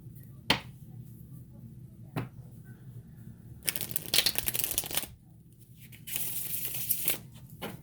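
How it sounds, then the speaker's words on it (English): Tarot cards are shuffled in quick riffling bursts, a few sharp snaps and longer crisp flurries, close and fairly quiet with no talking. "We've got 2 more shuffles."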